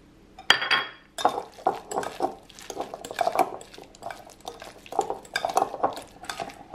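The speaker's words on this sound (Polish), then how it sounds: "I dodajemy dropsy czekoladowe. Dodam wszystkie, będzie idealnie." Spoon working oat cookie batter with chocolate chips in a bowl, a run of quick clinking and scraping strokes, close and fairly quiet, with no voices.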